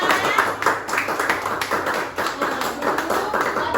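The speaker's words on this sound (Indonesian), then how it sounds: "Tepuk tangan dulu dong teman-temannya." A group of children claps continuously and somewhat unevenly, close up, in a steady patter that lasts throughout with no pauses.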